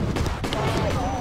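Video-game gunfire in a Bigfoot hunting game, a few short sharp shots in quick succession, heard close under a busy game soundscape.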